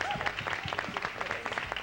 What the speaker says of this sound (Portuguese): Então, vocês aplaudam os convidados, por favor.